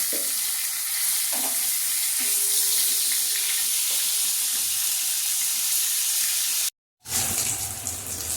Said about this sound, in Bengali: তেলটা অল্প গরম হয়ে গেছে, এই তেলে মাছের মাথাটা দিয়ে দিলাম।